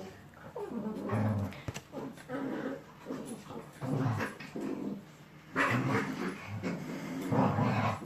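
Dogs pant and whimper close by in a room, with rhythmic breathy bursts and soft whines coming in irregular waves, fairly quiet throughout.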